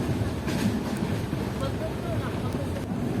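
A Mumbai LTT–Ernakulam superfast train runs along the line with a steady, loud, broad rumble and roar, like wind rushing past. The noise stays even throughout, with no clear clatter standing out.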